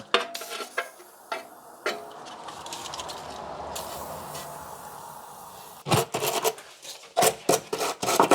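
Bristle scrubbing on a front brake hose fitting of a BMW E66 740Li, a close, rasping back-and-forth rub in quick bursts that pause briefly, then turn sharper and louder near the end.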